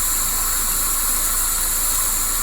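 A Toyota Corolla radiator fan runs at low speed with the engine on, giving a steady, loud hissing whoosh with no breaks throughout.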